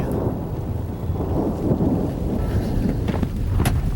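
Loud rumbling thunder from a nearby lightning strike rolls continuously through a thunderstorm, with rain and wind noise underneath and a sharper crackle near the end.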